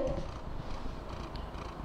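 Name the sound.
cat purring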